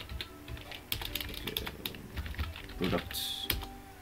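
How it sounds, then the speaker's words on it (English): Fingers type on a computer keyboard, irregular clusters of close, light clicking keystrokes, with a voice briefly speaking in the middle. "You can leave it or you can type in anything."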